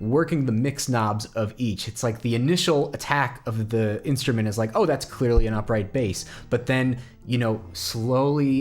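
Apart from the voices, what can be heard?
No everyday noises stand out.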